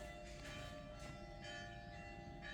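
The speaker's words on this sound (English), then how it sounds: "That would be the 8 o'clock church bells." Church bells ring the 8 o'clock hour in a town in Salento, Puglia, heard faint and distant from inside a darkened house as several resonant strokes, evenly spaced, with their tones lingering between strikes.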